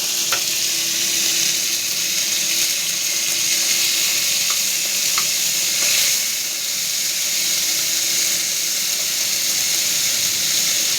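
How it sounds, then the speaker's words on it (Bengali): Minced meat sizzling as it fries in hot mustard oil in a home kitchen, a steady bright hiss with faint scrapes of stirring throughout, close and continuous with no voices. "এবারে আমি কিমাটাকে একটু ছাড়তে দিই।"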